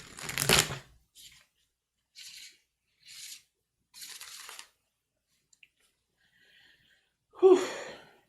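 A tarot card deck being shuffled by hand in short separate bursts of riffling and rustling, several quick passes spaced apart by silence, ending with a louder brush of cards and a breathy sound.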